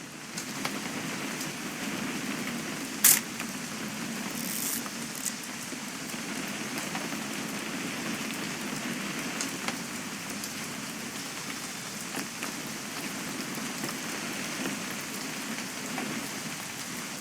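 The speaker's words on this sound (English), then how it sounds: "It's gonna rain the whole weekend, isn't it?" Steady rain in What Remains of Edith Finch pattering on surfaces, a dense continuous hiss throughout with a few sharper drops and one brief bright tick, no voices.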